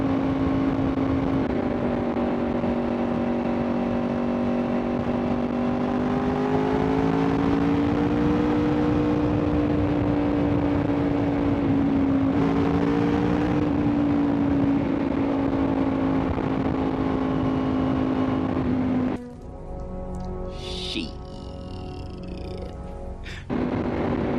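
A steady engine drone with a rising and falling pitch as two police motorcycles pass close by, then cutting off abruptly near the end.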